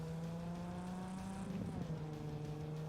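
A car drives in a video game with a steady, even engine hum and a faint rise in revs partway through, heard fairly quietly with no talk.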